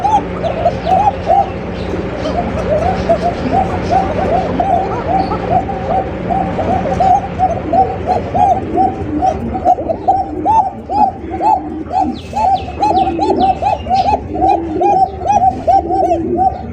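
Pigeons coo repeatedly in a dense, overlapping chorus close by at a pigeon seller's, with soft throaty calls, some chirps from other birds and faint voices in the background.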